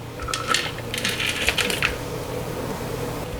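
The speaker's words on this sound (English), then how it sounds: "I'm gonna throw those almonds in there." Toasted almonds tumble into a food processor bowl as a quick scatter of light, hard clicks and rattles lasting a second or two, fairly close, then quiet room tone.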